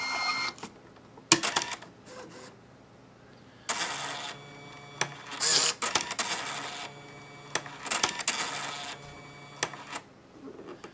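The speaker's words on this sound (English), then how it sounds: "Hold it in for 5 seconds or until the power light flashes off and on and the printer will reset." A printer resets after its reset button is held, giving off intermittent mechanical whirs, clicks and grinding bursts of varying length at close range with short quiet gaps between them, and no talk.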